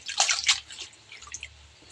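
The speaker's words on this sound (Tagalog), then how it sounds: "hugasan po muna natin yung down sili po" Chili leaves are washed in water, giving quick close splashes and drips in two short bursts before settling to a faint trickle.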